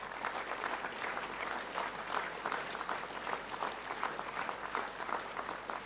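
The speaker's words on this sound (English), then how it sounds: "Please give these boys a round of applause." Boys' school assembly audience gives a sustained, even round of applause, steady moderate-level clapping from a large crowd with no break.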